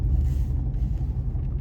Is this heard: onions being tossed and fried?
no